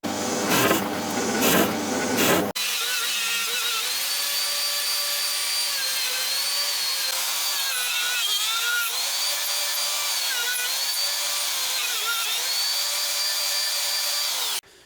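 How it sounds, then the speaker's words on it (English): A wood router whines at high speed, cutting into a Strat-style guitar body with a steady, shrill screaming tone that wavers slightly as it moves, after a brief rougher start. "we'll finish it off with the router."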